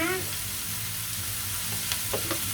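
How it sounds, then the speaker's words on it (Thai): Bean sprout filling stir-fries in a pan, a dense steady sizzle with a few faint spatula clinks near the end; a brief voice-like tone opens the moment. "ผัดไปเรื่อยๆนะคะ กลิ่นหอมมากเลยนะคะ"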